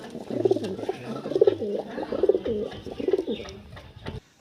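Murshidabadi Giribaz and Chocolate Dum pigeons coo nearby in a series of four or five throaty, rolling phrases, clear and fairly loud, ending abruptly.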